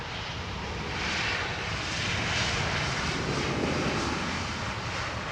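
An airplane landing on runway 27R at London Heathrow, a broad steady engine roar that swells and stays loud throughout, close by with no other sounds.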